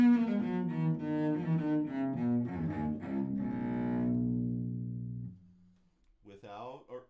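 Acoustic cello played through amplification, a bowed melodic passage of several notes leading into a long sustained tone, close and full; a voice begins speaking right after the music stops.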